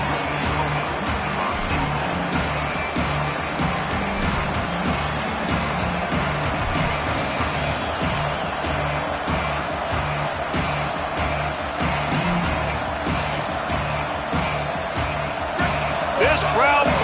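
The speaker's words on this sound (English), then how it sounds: "This crowd bringing the energy and noise early." Stadium crowd in the NCAA 25 college football video game, a constant dense roar of cheering fans with thumping impacts, under continuous commentary.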